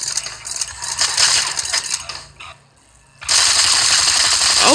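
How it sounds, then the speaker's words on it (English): Rapid automatic gunfire in the driving video game Gangstar Vegas, loud mechanical bursts that dip into a brief lull before resuming at full intensity. "this is the part where you take this gun and shoot at the asshole behind us while I drive"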